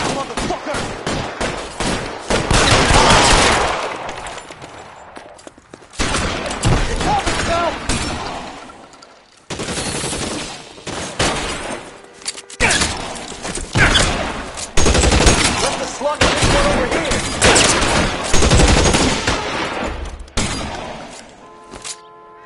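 Gunfire in the video game L.A. Noire: loud, dense bursts of shots and rapid automatic fire clatter through the whole stretch, broken by a few short pauses, with voices calling out amid the shooting.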